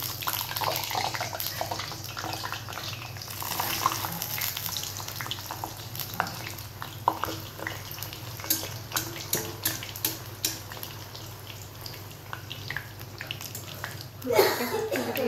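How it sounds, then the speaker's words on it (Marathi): Rolled puris go into hot oil and set off a continuous bubbling sizzle, with scattered clicks and scrapes over a steady low hum. A sharper burst of sizzling comes near the end. "तेलात टाकते पुरी"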